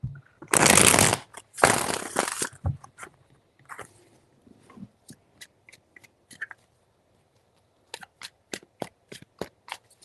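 Cards riffle and shuffle in two loud bursts, followed by scattered soft taps and flicks as the deck is handled and squared up.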